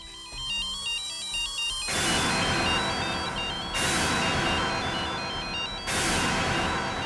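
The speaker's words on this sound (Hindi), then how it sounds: "फोन करता हूँ।" A telephone rings in a loud, steady electronic pattern, repeating in bursts about every two seconds, with no voices over it.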